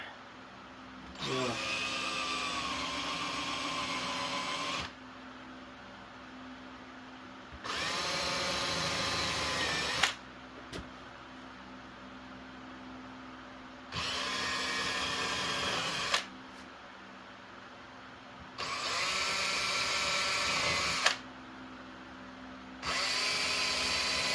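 A power drill countersinks holes in a DIY travel case for a 1/4 scale RC semi, four separate bursts of high whining drilling a few seconds each, separated by quiet gaps, close and clear.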